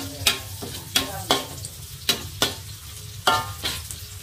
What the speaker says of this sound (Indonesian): Ada bawang merah, bawang putih, terus ini ada lengkuas dan juga cabai. Saya tumis terlebih dahulu.